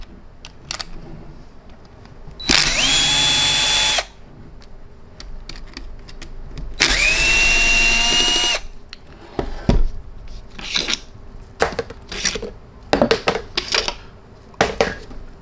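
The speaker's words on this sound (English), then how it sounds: "I use a power driver for the screws back here" Two bursts of a power driver backing screws out of an Ingersoll-Rand 2131 1/2-inch-drive air impact wrench, each a loud whir of about a second and a half, followed by scattered clicks and clatter of small parts being handled.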